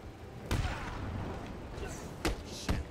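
Explosions in Batman: Arkham City, a burst near the start followed by two more sharp blasts close together later, over a continuous game background.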